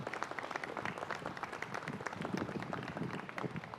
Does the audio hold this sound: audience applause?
yes